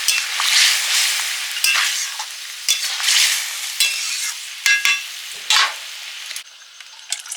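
Potatoes and meat fry in spice masala, with loud sizzling broken up by repeated stirring strokes and utensil scrapes against the pan, each burst followed by the hiss settling back.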